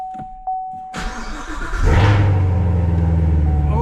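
A Corvette Z06 cold start: a starter whine cuts in, then the engine catches with a sharp loud flare that rises and swells into a deep, steady, throbbing idle, close and heavy.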